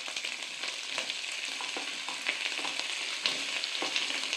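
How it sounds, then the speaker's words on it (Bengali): Sliced ivy gourds being stirred into hot oil in a pan for Bengali kundri bhaja, giving a steady broad sizzle with soft repeated scrapes of the spatula, no voices. "এবার দেখুন কেটে রাখা কুঁদরিগুলো আমি ধীরে ধীরে এর মধ্যে মিশিয়ে দিলাম।"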